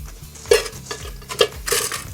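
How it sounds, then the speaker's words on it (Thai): Uncooked rice is tipped into a metal cooking pot for Japanese-style baked rice, giving scattered clinks and a soft rushing patter of grains over a low background hum, with no talk. "เอาข้าวใส่ลงไปฮะ"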